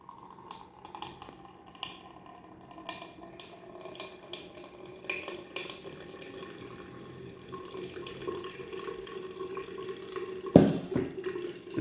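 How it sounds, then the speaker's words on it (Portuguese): Potato and water liquid is strained through a sieve into a container, making a soft, continuous trickle and pour with faint clinks, and a sharper splash near the end. "a gente vai peneirar esse líquido para um recipiente para deixar ele descansando"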